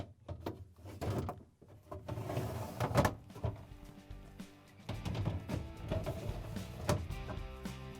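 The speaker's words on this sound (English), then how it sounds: "All you have to do is line them up on the rails and push them back in." Plastic Whirlpool/KitchenAid/Maytag refrigerator crisper drawers scrape and slide along rails with several knocks and thumps as they are pushed into place, close and fairly loud.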